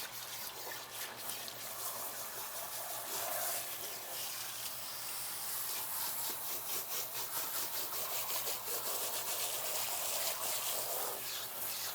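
Lukewarm water runs and splashes over a hair topper being rinsed at home, a steady close hiss with rhythmic rubbing strokes as the hair is worked under the stream.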